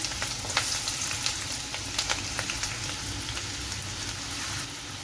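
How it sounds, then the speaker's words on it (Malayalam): Finely chopped ginger hits hot oil for chicken pickle, producing a dense continuous crackling sizzle with scattered sharp pops, close and steady for about five seconds. "അപ്പം നമ്മുടെ എണ്ണ ചൂടായിട്ടുണ്ട്. ഞാനിവിടെ ഒരു 2 ടീസ്പൂണ് ഇഞ്ചി അരിഞ്ഞു വെച്ചിട്ടുണ്ട് ചെറുതായിട്ട്. നമുക്കിതിലേക്ക് ഇട്ട് കൊടുക്കാം."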